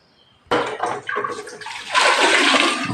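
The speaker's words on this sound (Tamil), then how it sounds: "கிரைண்டர் கழுவுறீங்களா?" Water splashes and rushes steadily while a wet grinder is rinsed out in a home kitchen, starting abruptly and growing louder and fuller toward the end, with no talking.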